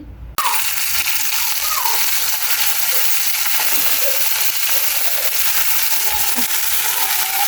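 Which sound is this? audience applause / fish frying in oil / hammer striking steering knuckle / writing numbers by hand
fish frying in oil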